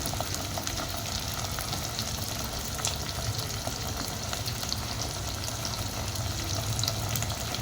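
Onion, tomato and curry leaves sizzle steadily as they fry in a pan for daging kari, with faint scraping of stirring throughout, close and continuous.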